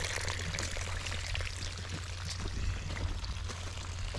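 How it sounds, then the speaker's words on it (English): Irrigation water pours and gushes steadily into a large crack in dry ground, a continuous close, noisy rush with no pauses. "The water goes straight into that big ass crack over there"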